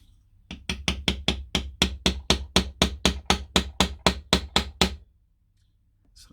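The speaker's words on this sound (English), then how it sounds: "I need a small hammer" A small hammer taps a part into a push-fit hole, with about seventeen sharp, evenly spaced knocks in a quick steady rhythm, close and loud, then silence.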